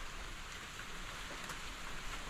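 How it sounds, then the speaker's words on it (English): Steady rain falls outdoors by a large rock in Mabaruma, a broad even hiss of drops landing on surfaces, continuous and fairly close, with no voices. "Well, the rain again."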